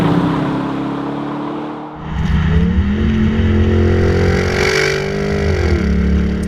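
A Bentley Continental GT V8 S with a 4-liter twin-turbo V8 revs and accelerates, its engine note climbing in pitch, loud and close, with no voices.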